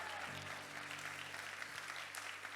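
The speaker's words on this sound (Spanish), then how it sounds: "denle un aplauso fuerte al Señor" A church congregation claps for the Lord, a steady wash of applause with a sustained musical tone underneath, heard from a distance and fairly faint.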